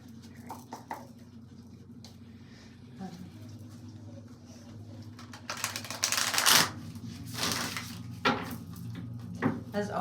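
Tarot cards being shuffled in short riffling bursts near the microphone, with quiet pauses and a low hum between them.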